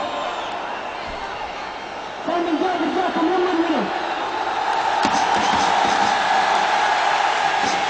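A packed stadium crowd of Al Hilal fans at a football match keeps up a loud, steady roar with chanting, while a commentator talks over it.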